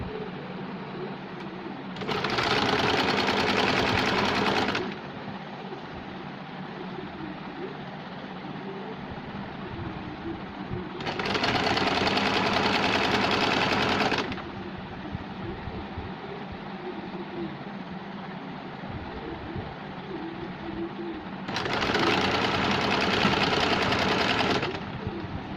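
Sewing machine stitching fabric for a double-layer top, running in three steady bursts of about three seconds each with quiet pauses between, loud and close.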